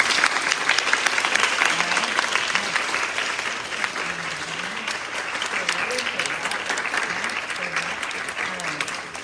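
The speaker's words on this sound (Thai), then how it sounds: "ปรบมือดังๆให้กับเพื่อนค่ะ" Sustained audience applause, many hands clapping steadily, with a voice speaking over it partway through.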